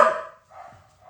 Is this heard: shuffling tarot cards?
no